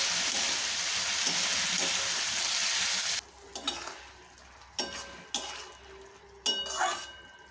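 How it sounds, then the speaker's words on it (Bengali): Fried potatoes and pointed gourd are tossed and stirred in a hot pan for a shrimp and poppy-seed dish: a loud continuous sizzle at first, then quieter frying broken by several sharp scraping strokes of the spatula. "ভেজে রাখা আলু পটল দিয়ে ভালো করে একটু কষিয়ে নেব।"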